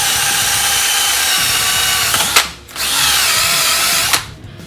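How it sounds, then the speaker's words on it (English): A power drill whirs loudly as it scrubs inside the rusted, pitted cylinders of a seized 1967 Plymouth Belvedere 413 engine, pausing briefly and restarting in the other direction, with a grinding, rubbing texture. "I'm running this drill both directions to keep this thing from like taking a set"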